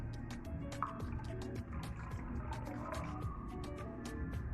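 Water poured into a plastic bottle, a steady soft trickling and gurgling with small drips and splashes running continuously, fairly quiet and close, with no one talking.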